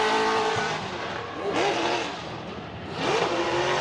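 A race car drifts during qualifying at Agassiz Speedway, steered on the throttle. Its engine roars and surges in loud revving waves, with tire squeal mixed in and a rise and fall as the car sweeps past.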